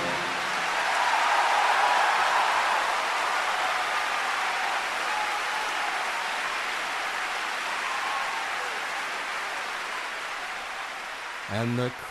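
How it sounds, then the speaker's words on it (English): A theatre audience applauds a live Broadway-style performance of Follies, a dense, sustained wash of clapping that swells early and fades slightly over about twelve seconds, ending in a brief burst of sound. "And the crowd goes wild."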